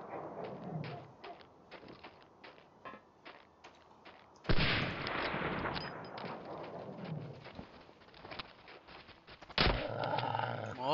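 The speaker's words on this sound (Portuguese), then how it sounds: "Só cães, pá." Dogs snarl and growl in the World War II shooter Medal of Honor Allied Assault, mixed with thumps and gunfire-like bursts, fairly faint overall, with a voice talking intermittently.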